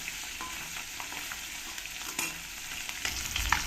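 Puti fish frying in oil in a pan, a steady close crackling sizzle with occasional sharper pops and stirring scrapes, no voices.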